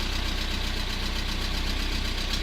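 A Volkswagen Corrado engine with an ABF unit idles steadily just after its first start, a close, continuous mid-pitched rumble with a fast even pulse and a faint knocking texture.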